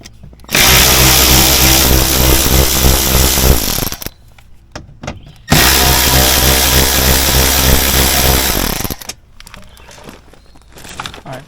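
A power driver fitted with a T25 Torx bit whirs loudly up close in two long bursts, each lasting about three to four seconds, as it backs out wheel well liner screws on a Ford Transit, with short pauses between them.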